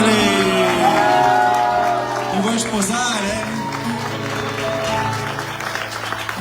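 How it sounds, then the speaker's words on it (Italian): Applause and cheers from a concert audience at an outdoor serenade, loud clapping with whoops mixed among music and voices, a voice speaking over the crowd. "Facciamo un bellissimo applauso"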